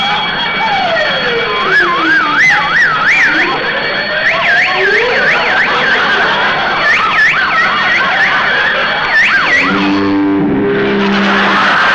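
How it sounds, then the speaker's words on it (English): Alarm blaring inside a bank vault in a 1945 radio drama, a loud, continuous warbling siren-like wail with rising and falling sweeps, distorted and filling the whole stretch before cutting to a lower buzzing tone near the end. "I forgot to turn off the alarm."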